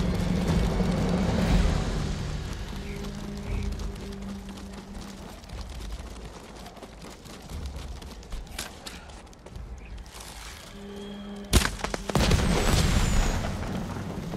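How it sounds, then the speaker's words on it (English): Celebratory fireworks in the samurai game Ghost of Tsushima, a series of deep booms and pops over ambient rumble, with one sharp crack near the end. "Those are celebratory fireworks, Yuna."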